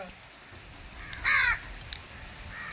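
A single crow gives one short, loud caw close by, against quiet outdoor background.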